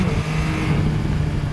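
Yamaha Tracer 9 GT 2021 motorcycle engine revving hard, a loud, steady close-up roar with a low droning tone throughout the short burst; no separate pops stand out.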